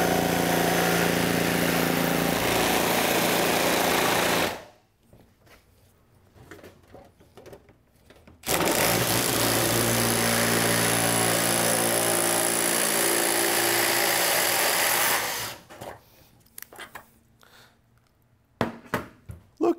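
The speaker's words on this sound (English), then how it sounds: "The impact driver seems to make a lot more vibration than just a drill driver." A handheld impact driver runs in two long, loud bursts with a buzzing, vibrating drone, broken by a quiet pause and ending with a few faint clicks.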